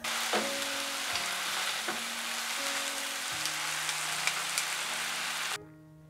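Hand-made noodles stir-fried in a pan give a steady, close sizzling hiss with small scraping stir sounds, set under soft tonal background music that stops just before the end.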